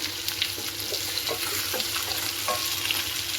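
Apple, onion and tomato sautéing in a pan for chutney, a soft continuous sizzle with light scraping stirs, steady and close.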